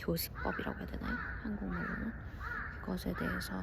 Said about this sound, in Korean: 오늘 굉장히 까마귀 울고 막